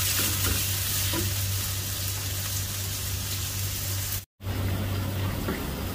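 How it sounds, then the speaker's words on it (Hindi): Mutton and onions frying in a karahi, a dense, loud sizzle with stirring scrapes, continuous apart from a sudden brief silence near the end, with no talking. "मटन को मैं अच्छी तरह भूनूंगा प्याज के साथ जब तक मटन अच्छा ब्राउन हो जाए"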